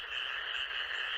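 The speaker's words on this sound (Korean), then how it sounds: "삼봉이는 또 개구리를 쫓고 있는데" A frog croaks at night in one continuous, buzzing call, close and clear over faint background quiet.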